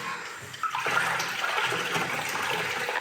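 Water sponged onto old plaster to wash off its top layer, a soft continuous wet wash and trickle at moderate distance, with no talking.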